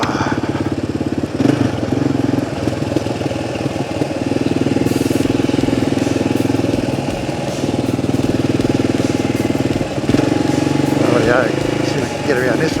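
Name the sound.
Kawasaki motorcycle being ridden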